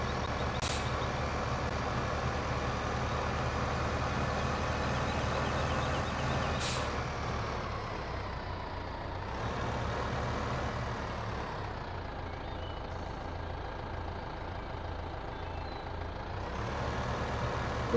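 A tractor engine in the Farming Simulator 15 video game runs in a steady, moderately loud diesel drone. Two short hissing bursts, like an air brake release, come early on, and the engine tone eases slightly midway.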